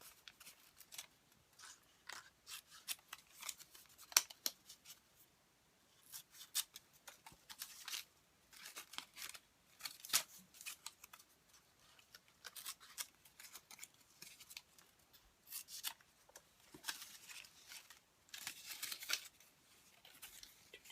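Crisp scissor snips cut through paper for a paper lace flower, coming in irregular clusters of soft crunchy clicks with short pauses between bursts, close and fairly quiet throughout.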